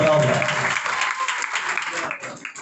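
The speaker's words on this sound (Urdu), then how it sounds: "آئے یسوع کے لیے زوردار تالیاں بجائیں" A church congregation claps enthusiastically for Jesus, a dense, steady wave of applause from a crowd that continues throughout.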